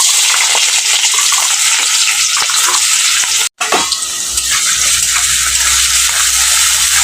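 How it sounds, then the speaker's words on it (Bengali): Small cut potato pieces fry in hot oil in a pan, a loud, steady sizzle and hiss with a brief dropout midway before the crackling resumes, no voices over it. "এই আলুগুলোকে আমি এখন ভেজে নেব।"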